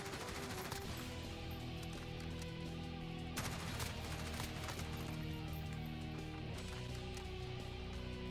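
M4A1 rifle fire in Call of Duty Modern Warfare rattles in steady, dense automatic bursts that fill the whole stretch, loud and continuous with layered game noise.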